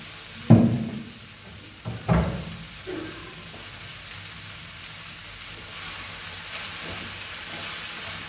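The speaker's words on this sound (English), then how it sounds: "fry the masala which is we added. Let that masala get nicely fried." Chili masala with chili powder frying in a pan for Goan pork chilli fry, a soft steady sizzle and hiss with a couple of sharp stirring clatters near the start.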